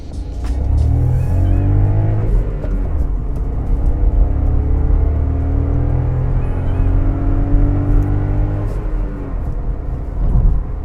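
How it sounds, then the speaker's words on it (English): A small three-cylinder TSI engine in a 2020 VW Polo idles and hums with a low, slightly uneven thrum, steady and close throughout, with a brief rise in revs near the end. "you can feel that irregular thrum of a 3-cylinder engine"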